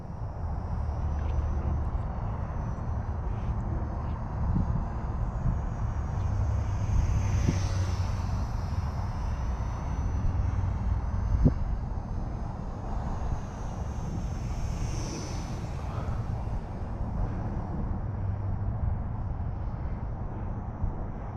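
A small Eachine Mini T-28 RC plane with a brushed motor flies outdoors on a hot day, its thin buzzing drone rising and fading as it passes, over steady wind rumble at the microphone.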